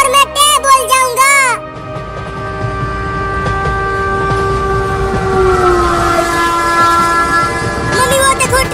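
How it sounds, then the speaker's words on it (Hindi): A passing train sounds a long, loud horn blast, with close rolling wheel rumble and clatter continuing underneath; a voice is heard briefly at the start. "मम्मी वो देखो ट्रेन आ गई"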